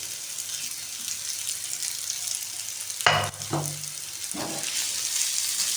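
Boiled mashed potatoes are stirred with oregano in a pan for a bread burger filling, with a steady sizzle underneath and a few short scraping strokes in the middle.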